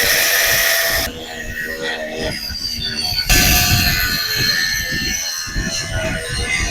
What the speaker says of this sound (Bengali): এই গ্রাইন্ডিং মেশিনের মাধ্যমে, কটলেস গ্রাইন্ডিং মেশিনের মাধ্যমে কত মোটা একটা রড কাটছে